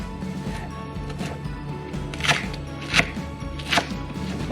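A knife chopping green onions on a cutting board, a few soft cuts building to three sharper chops near the end, with a low background hum and no talking.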